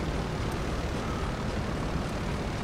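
A steady, even airplane engine drone from GTA V Online plays continuously at moderate level, with no other sounds standing out.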